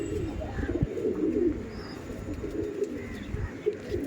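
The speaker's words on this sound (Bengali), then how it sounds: "দেখুন এটা ছিল নর পায়রা" Pigeons cooing nearby, low throaty coos repeating in soft rolling phrases over a steady background, moderately loud and without talk.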